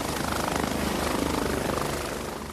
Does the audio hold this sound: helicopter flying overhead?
yes